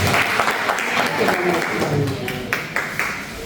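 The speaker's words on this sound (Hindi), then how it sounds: "एक बार तालियों से उनका स्वागत कर दीजिए, जोरदार तालियां" Hearty applause welcoming a poet at a mushaira poetry gathering in Bulandshahr, a crowd clapping loudly and continuously, with a speaking voice carrying over the clapping.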